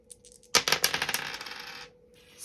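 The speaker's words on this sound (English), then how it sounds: "This green dice was a good idea. It's a bit loud though, without the mat." Dice clatter across a bare table with no mat, a sharp hard impact followed by a quick run of rattling bounces that fade over about a second, fairly quiet overall.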